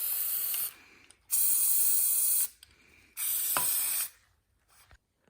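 Aerosol spray paint is sprayed into water to hydro-dip a shoe, one color after another. Three loud, hissing bursts of about a second each are separated by short quiet gaps, with faint handling noises in between.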